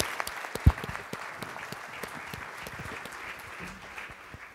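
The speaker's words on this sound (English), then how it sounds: "let's give this panel a big round of applause" Applause from a conference audience for a home care panel, a steady spread of many hands clapping with a few sharper close claps standing out, moderately loud and continuous.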